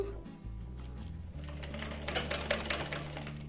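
A sewing machine stitching lehenga fabric for a child's party-wear outfit, a close mechanical whirr with rapid ticking of the needle that starts and stops briefly before running continuously.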